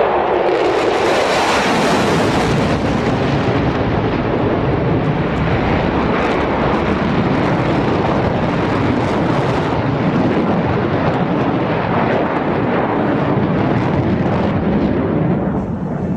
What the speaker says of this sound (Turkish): Solo Türk uçağımız bir F-16 jeti olup